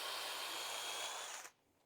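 A power drill bores holes into a wooden mallet handle, giving a steady, fairly faint whirring for about a second and a half before cutting off abruptly into near silence.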